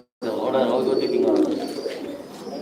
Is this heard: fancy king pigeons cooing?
yes